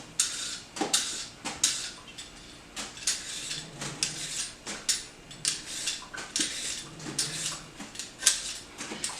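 A hand peeler scrapes potatoes in a kitchen, with short rasping strokes repeating in a steady rhythm, close and clear with no talk.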